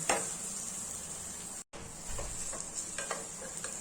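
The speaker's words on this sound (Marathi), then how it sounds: "जोपर्यंत तूप सुटत नाही तोपर्यंत आपल्याला हे हलवत राहायचं आहे." Vermicelli roasting in ghee in a pan is stirred steadily, a close, continuous sizzle with soft scraping strokes and a brief dropout midway.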